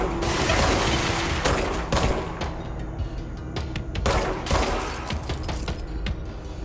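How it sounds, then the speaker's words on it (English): Enemies in the video game Control open fire in loud, sustained volleys of gunshots with dense bursts and brief gaps, close and dominating the mix. "Yeah, they're shooting at me."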